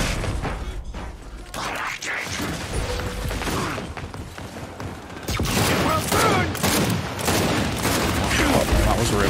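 Loud bursts of gunfire and heavy impacts from the video game Gears 5, a near-continuous fusillade with mechanical clanks, stronger in the second half, with a voice talking briefly over it.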